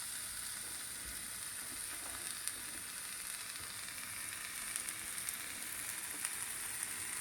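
Finely chopped onions frying in a pan, a steady hissing sizzle with occasional tiny pops, heard alone without talk throughout.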